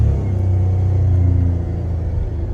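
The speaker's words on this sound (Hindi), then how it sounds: "अब मैं गाड़ी को चलाने की कोशिश करूंगा आगे की तरफ" An old car pulls away in fourth gear, its engine a loud, steady low rumble that strains continuously for a couple of seconds with no voices.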